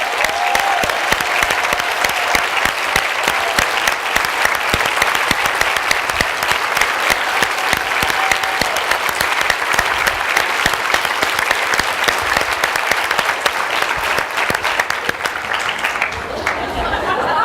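A conference audience gives standing applause for hotel and residence staff: loud, continuous clapping from a large crowd that holds steady throughout, with faint cheering and chatter mixed in.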